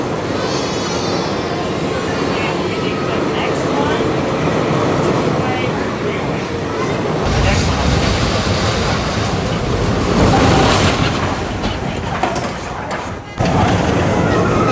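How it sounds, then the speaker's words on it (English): Tennessee Tornado roller coaster at Dollywood, Pigeon Forge, Tennessee, roaring past on its track: a rushing rumble swells around the midpoint, stays loud for several seconds, then cuts off abruptly, with faint crowd voices in the background. "The Tennessee Tornado. That's what they call this roller coaster ride."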